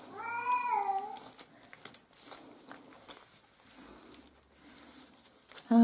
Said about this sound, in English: you're not meowing again, are you, baby?